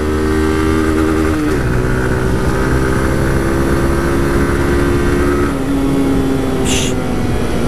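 A Honda CG 160 Fan 2022 motorcycle accelerating with a passenger aboard, steady droning engine note rising through the gears, close and loud with wind rush.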